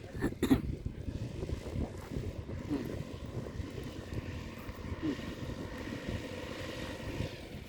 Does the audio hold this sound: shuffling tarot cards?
no